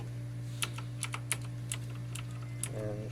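Keys on a mechanical computer keyboard pressed one at a time during repair testing, giving sharp isolated clicks at an uneven pace over a steady low electrical hum, ending in a brief buzzing rattle.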